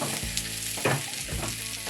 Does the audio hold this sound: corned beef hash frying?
yes